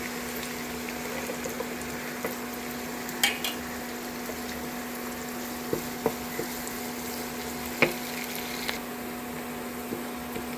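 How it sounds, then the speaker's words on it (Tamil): Onion, curry leaves and garlic sautéing in a pan for tomato pachadi, a soft steady sizzle with a few scattered clicks of a spoon stirring against the pan, no voices. "வெங்காயம் போட்டுக்கலாம் கருவேப்பிலை கொஞ்சம் போட்டுக்கலாம் வதக்கலாம் கொஞ்சம் பூண்டு போட்டுக்கலாம்"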